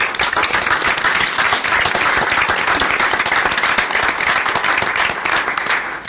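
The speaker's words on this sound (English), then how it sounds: "give them a round of applause" Loud, dense applause fills a city council meeting as the audience claps steadily and continuously for several seconds, with no talking over it.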